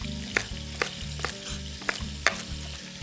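Rabbit sears in a pot alongside carrots, celery, onion and leeks, a steady close sizzle punctuated by several sharp scraping clacks of a utensil at irregular intervals.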